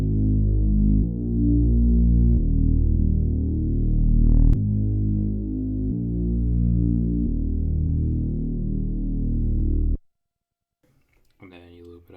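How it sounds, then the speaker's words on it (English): Deep programmed bass line on an Akai MPC Live 2 for a beat intro, heavy sustained low notes changing in steps, loud and throbbing, then stopping abruptly before brief faint sounds at the end. "let's play out what I did for the bass for the intro"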